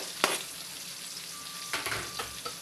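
Garlic sizzling gently in butter in a pan, a faint, soft crackle with a few sharper taps and scrapes from stirring, no voices over it.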